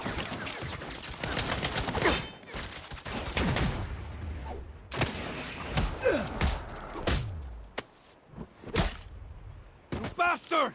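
Gunfire in the Saints Row video game, with repeated bursts of shots, impacts and thuds mixed with shouted character voices, loud and busy through most of the stretch.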